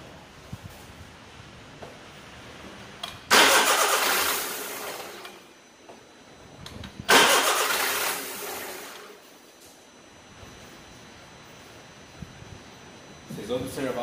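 A 2015 Volkswagen Voyage engine cranks without starting, two loud grinding starter bursts of a few seconds each with a pause between, and someone speaks in Portuguese before and after.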